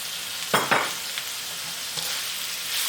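Carrots with a pinch of salt sauté in a pan for carrot rice, a soft steady sizzle with a couple of sharp stirring scrapes near the start and no talking.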